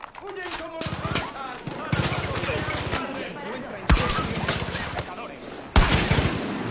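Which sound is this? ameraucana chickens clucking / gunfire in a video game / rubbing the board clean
gunfire in a video game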